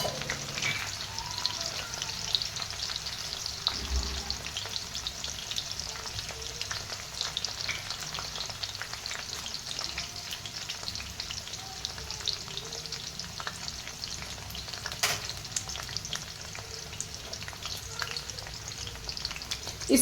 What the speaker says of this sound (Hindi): मतलब अभी मैं रिफाइंड ऑयल में ही ये इसको तल लूँगी, डीप फ्राई करूँगी।